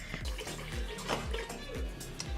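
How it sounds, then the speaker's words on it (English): Cold tap water runs into a bowl used to thaw shrimp, a soft continuous splashing stream with small burbles, fairly quiet and close, no talking. "I'm just going ahead and filling it up a little bit more with water."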